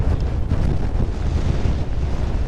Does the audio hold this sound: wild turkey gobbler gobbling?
no